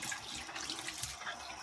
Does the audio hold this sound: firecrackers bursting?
no